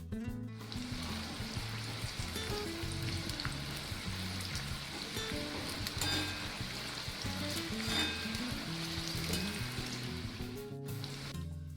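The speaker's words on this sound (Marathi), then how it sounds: "आता थोडा थोडा कांदा घालू आणि तळून घेऊ." Onions sizzle loudly in a pan over high heat for chicken dum biryani, a dense, continuous frying hiss with crackles and occasional stirring scrapes throughout.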